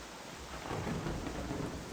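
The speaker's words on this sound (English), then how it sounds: "Oh, thunder and lightning" Thunder rolls outside a home garage during a storm, a quiet, steady low rumble with a hissing, rain-like wash and no talking.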